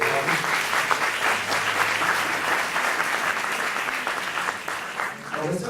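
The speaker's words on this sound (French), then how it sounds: "on va accueillir sous vos applaudissements Bastien Bonigioni" Sustained audience applause welcomes a speaker at a university research event, dense and steady throughout, with a faint voice or two mixed into the crowd noise.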